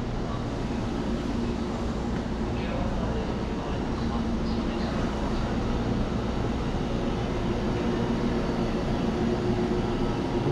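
A steady, loud rumbling drone of a moving train in Kyoto, Japan fills the whole stretch, with faint voices buried in the noise.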